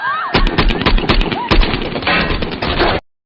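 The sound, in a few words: gunfire in an action film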